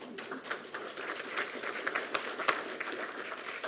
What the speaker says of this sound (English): they deserve an applause